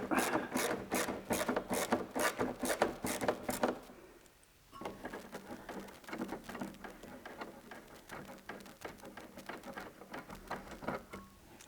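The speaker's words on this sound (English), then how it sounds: "we have to remove this screw from in here, and it's with the torque drive bit" Screw being removed with a Torx drive bit from a Porsche 997 exhaust, a steady run of close, rapid clicking like a ratchet, then a brief pause before softer clicking resumes.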